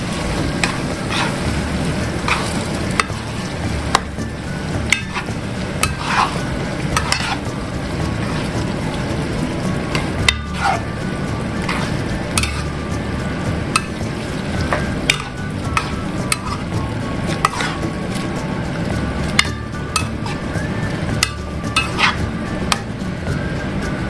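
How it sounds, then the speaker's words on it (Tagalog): Tomato sauce with stuffed bell pepper filling being stirred in a pan, with repeated spoon scrapes and taps against the pan over a steady low simmering sizzle, close and even-paced. "Siyempre, haluin na naman natin ito ng mabuti"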